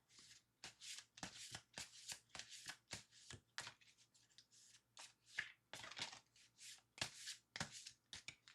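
Tarot cards shuffled in quick repeated riffles and slides, close and quiet, forming a steady rhythm of short papery bursts.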